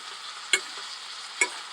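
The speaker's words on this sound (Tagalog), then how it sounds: "Kailangan i-mix para mahalo talaga. Ang gulay at saka yung meat." Vegetables stir-fried with smoked meat and pork in a pan, a continuous close sizzle broken by two sharp scraping stirs of the spatula.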